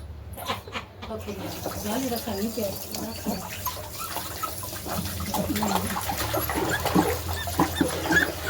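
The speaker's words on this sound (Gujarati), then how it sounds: "નળ બંધ કરી દઉં છું." A tap runs steadily while a dog is bathed at home, the gushing water flowing under people talking and a dog's occasional noises throughout.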